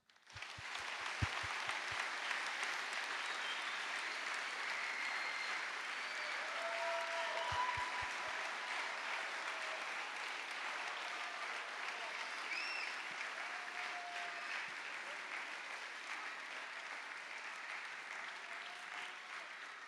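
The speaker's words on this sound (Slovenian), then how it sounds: "Res si zaslužijo en velik aplavz." Audience applauding children after a kindergarten or school performance, a steady sustained wash of many hands clapping alone for about twenty seconds at moderate distance, holding even throughout.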